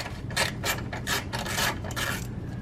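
A ratchet loosening 8mm radiator bolts on a Jaguar XJ8, close-up bursts of quick clicking and rasping in an irregular rhythm, about five short strokes.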